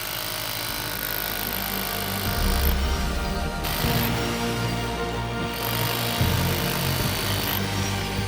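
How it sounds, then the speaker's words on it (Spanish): Demolition hammer pounds a panel out in the field, a loud, continuous mechanical rattle with short breaks around the middle of the run. "El panel puede hasta con el martillo demoledor."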